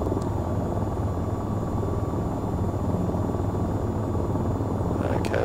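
An AH-94 helicopter autorotating in the game VTOL VR, a steady rumbling rotor drone that holds level throughout, with a faint brief sweep near the end.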